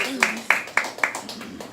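A church congregation claps in unison during a worship service, about six sharp, evenly spaced claps in a steady rhythm, fairly close and clear with no talking over them.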